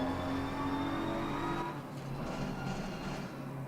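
A BMW race car engine in the video game Assetto Corsa Competizione drones steadily with a high whine, revving and shifting partway through, continuous and fairly loud with no voices.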